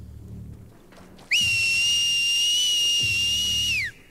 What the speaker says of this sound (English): That's a good whistle you've got there.